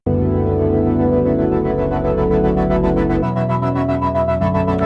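Detuned synth chord with a hyper effect swells as one dense, buzzing sustained tone, holding steady and loud for about five seconds before stopping abruptly, with no voices.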